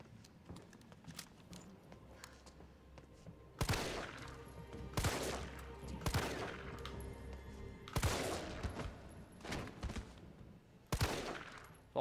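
Gunfire in the video game Resident Evil 3 Remake: several loud, sharp shots spaced a second or two apart, each ringing off briefly, over a quiet game ambience with faint footsteps.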